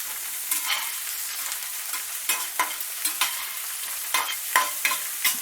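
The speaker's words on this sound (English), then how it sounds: "We're just going to give this asparagus a light sauteing." Asparagus is sautéed in a pan, a constant gentle sizzle broken by repeated quick scraping stirs that come more often toward the end, close and clear with no talking.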